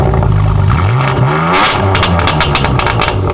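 A BMW G82 M4 Competition xDrive fires up and revs hard, its loud engine note climbing and falling in quick sweeps at close range.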